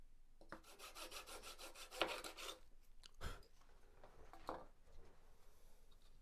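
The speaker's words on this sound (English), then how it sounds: "I'm using my sandpaper or my T-bar as a guide" Sandpaper or a T-bar sanding block rasps across a part for a Carl Goldberg Sukhoi SU26MX model airplane, in quick rhythmic strokes followed by a few slower separate passes, close up and fairly quiet.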